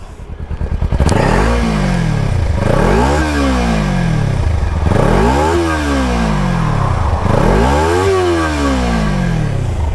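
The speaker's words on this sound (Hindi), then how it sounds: "एक बार आपको एग्जॉस्ट की आवाज़ सुना देता हूँ मैं।" A Kawasaki Ninja 300 twin-cylinder motorcycle engine revs up through its exhaust and falls back again four times in a steady rhythm, throaty and close, with no talking.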